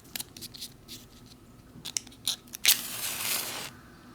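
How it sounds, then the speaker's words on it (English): An old match from a 1983 Long Range Patrol MRE food packet struck once, giving a sharp close scratch that flares into a brief hissing burn after a few faint rustles. "One strike, one light."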